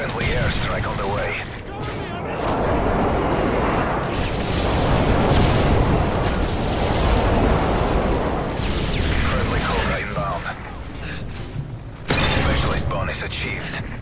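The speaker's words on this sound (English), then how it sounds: "Friendly airstrike on the way." Call of Duty airstrike explosions thunder in a dense, continuous barrage of blasts and gunfire-like crackle lasting several seconds, loud and close, with a sharp fresh burst near the end.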